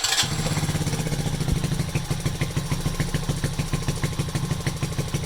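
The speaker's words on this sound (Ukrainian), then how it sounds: "я зараз ще раз заведу і покажу, що тут реально димить" A Delta moped engine, suspected of worn piston rings and smoking, starts and idles close by with a rapid, steady putter that holds evenly for several seconds.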